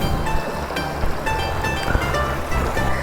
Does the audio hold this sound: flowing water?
yes